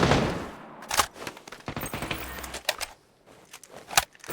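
Bursts of rapid gunfire from the video game PUBG: Battlegrounds, several sharp shots spaced irregularly over a few seconds, loud and close.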